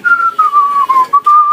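A person whistles a short wavering tune in a few connected phrases, close and clear with no other sounds.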